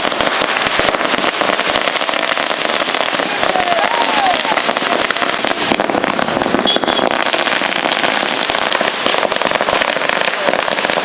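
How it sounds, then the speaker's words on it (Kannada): Firecrackers burst in a dense, continuous stream of loud, rapid crackling and popping at a Congress party celebration outside its office in Chikkaballapur, running the whole way through. "ಕಾಂಗ್ರೆಸ್ ಕಚೇರಿಯ ಮುಂದೆ ಪಟಾಕಿ ಸಿಡಿಸಿ ಸಿಹಿ ಹಂಚಿ ಸಂಭ್ರಮಾಚರಣೆ ಮಾಡಿದ್ದಾರೆ"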